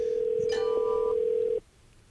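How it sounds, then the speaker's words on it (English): A telephone tone on a phone placing an outgoing call through Bluetooth and a Macintosh computer, one steady loud tone lasting about a second and a half, then cutting off into quiet room noise. "So it's going to make an outgoing call using this phone to call this phone."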